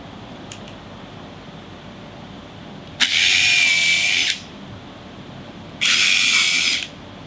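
A power drill drives screws into the wood of a children's hall tree, with two sustained whirring bursts of about a second each, loud and close, separated by a quiet pause.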